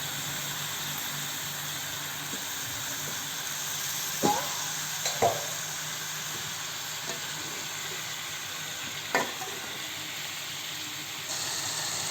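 Chicken frying and being stirred in oil for a chicken gravy, a steady close sizzle with a few scraping spatula strokes and light knocks against the pan, no voices.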